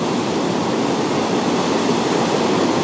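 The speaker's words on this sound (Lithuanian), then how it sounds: "čia toks ne krioklys, čia toks labai didelis slenkstis" River rapids at Sioux Falls, a large rocky drop in the river rather than a true falls, give a continuous loud roar of rushing water, close and unbroken, with no voices.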